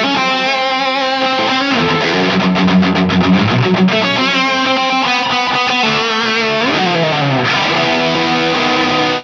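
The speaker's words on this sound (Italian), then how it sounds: "il suono che avete sentito è stato ottenuto sempre con l'AT Master dentro il Marshall" An electric guitar running through a Formula B 80 Master pedal into a Marshall amp, a loud, dense overdriven tone with thick chords and sliding lead lines, played alone without speech.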